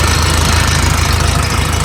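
A 2014 Hitachi ZX250-5 LC excavator engine idles steadily and close, a low rumbling throb with a rapid regular knock and a vibrating rattle, with no voices.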